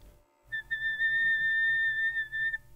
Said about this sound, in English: In order to fix that, I use whistle tones.